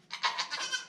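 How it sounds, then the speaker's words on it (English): A newborn goat kid, still weak and not standing, gives a short series of soft, high, wavering bleats, four or five quick cries in a row, close by and fairly quiet. "that little baby goat"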